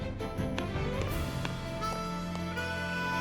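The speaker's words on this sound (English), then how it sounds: "So the merchant's theme is signified with a harmonica" Harmonica-led lead-in of the merchant's theme from the Octopath Traveler video game, sustained reedy notes over a steady backing with light percussive accents, played fairly quietly and without any voices.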